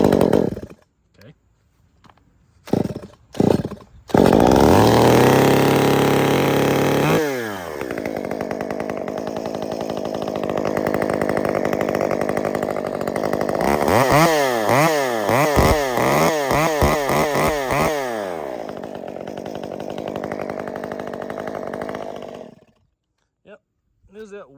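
A small engine, started on choke and throttle and running a bit wonky, sputters through a few coughs and then roars steadily with revving surges, close and loud, as someone talks briefly.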